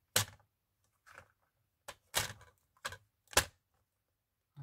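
A handful of sharp, crisp snips of paper being cut with a paper cutter, spaced irregularly with quiet gaps between them, close up.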